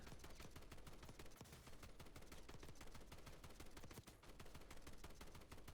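Rapid automatic weapon fire from a video game, with a continuous stream of sharp shots in a steady rhythm that runs without pause for the whole stretch, loud and close.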